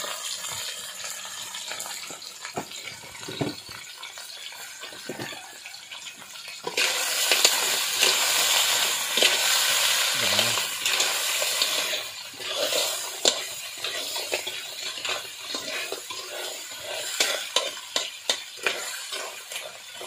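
Food fries in cooking oil with a fizzing sizzle that swells loudly partway through, mixed with scattered clinks and stirring noises, close and without talk.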